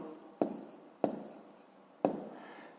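A pen writing answers in a notebook for a 5th-grade math exercise, heard as three close, distinct scratching strokes spaced about a second apart, with no talking over them.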